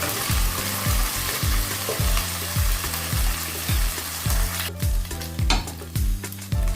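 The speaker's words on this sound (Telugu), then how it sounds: "పచ్చివాసన పోయే వరకు బాగా ఫ్రై చేసేద్దాం అల్లం వెల్లుల్లి పేస్ట్" Ginger garlic paste frying in a pan with oil while being stirred for veg biryani, a loud close sizzle with regular rhythmic scraping strokes of a spoon against the pan, no voices.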